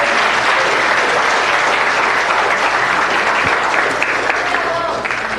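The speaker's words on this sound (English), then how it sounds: "Let's give him a big round of applause" A large audience at a city council meeting claps in a dense, steady round of applause for a young elementary school student finalist, loud and sustained throughout with no pause.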